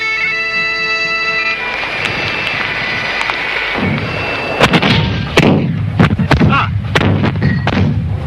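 Booming cannon artillery fire at the Battle of Culloden, several heavy blasts in quick succession after a sustained rumbling, loud and close with echoing reports.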